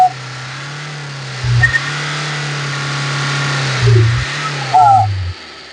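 A Chevrolet Enjoy LS engine idles steadily, then revs up sharply three times in brief, loud bursts, heard up close.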